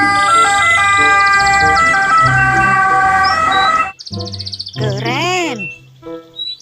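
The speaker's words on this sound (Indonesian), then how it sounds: "ini mobil ambulan" A toy ambulance, caked in mud and being cleaned, wails with a warbling electronic siren that rises and falls at close range, preceded by a busy run of toy chirps and tones.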